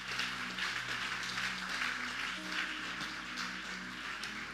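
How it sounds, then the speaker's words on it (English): A church congregation claps during a Sunday service, a steady wash of many hands spread across the whole moment with a low hum underneath and no distinct voices. "God bless that person clapping"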